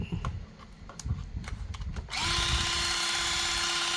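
The small electric motor of a water gun starts up and whirs steadily with a high-pitched buzz, after a stretch of quieter clicking and handling noises.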